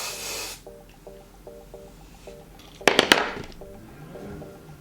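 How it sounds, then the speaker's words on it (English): Goldwell Gloss Style Magic Finish No. 3 Brilliance hairspray gives one short, close, breathy hiss at the start, followed by quiet tonal beeps and a few sharp clicks. "With the outer pieces, I normally put a bit of hairspray because I'm taking like thicker chunks."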